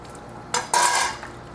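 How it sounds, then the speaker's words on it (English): A metal plate is rinsed off while drywashing for gold in the field, giving a short metallic clatter followed by a brighter splashing, scraping burst that lasts about half a second and then fades. "Wash off your metal plate."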